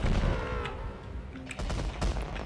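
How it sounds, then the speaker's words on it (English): Fireworks bursting in the Cliff Empire colony-building game, a dense crackle of sharp pops and bangs that keeps coming at close range with no voices over it. "Stop setting off fireworks!"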